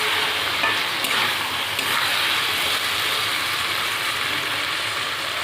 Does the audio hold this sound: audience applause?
no